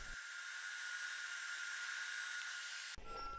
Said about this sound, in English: And now I need to round this corner by my grinder.